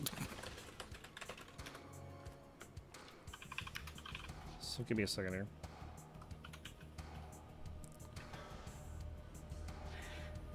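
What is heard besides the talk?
typing on a computer keyboard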